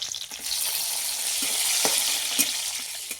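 Whole spices, cardamom, cloves, cinnamon and bay leaf, with green chilies frying in hot oil, giving a steady bright sizzle with a few soft clinks of stirring, close and without voices.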